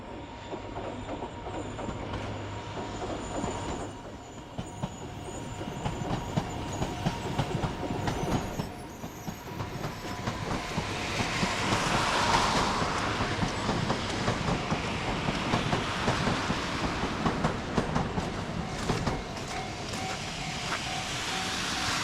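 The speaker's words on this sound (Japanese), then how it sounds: "新幹線ですね。" A Shinkansen bullet train passes below on the rails in snowy Yamagata, a long steady rumble and clatter of wheels that swells louder midway, heard from above without talking.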